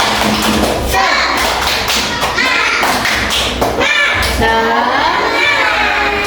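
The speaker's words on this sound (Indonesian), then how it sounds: "Tepuk semangat." A class of schoolchildren performs the tepuk semangat spirit clap: a rhythmic run of sharp claps and thumps, with the children's voices chanting along.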